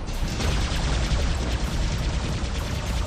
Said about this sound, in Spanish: Ahí van los disparos.